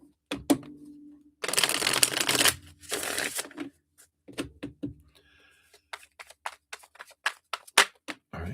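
Tarot cards being shuffled in two loud riffling bursts, followed by scattered soft taps and flicks as cards are laid down nearby.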